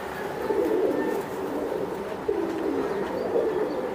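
Racing pigeons coo in a steady low murmur that keeps going throughout, with a few fuller swells along the way, all heard fairly close with no talking.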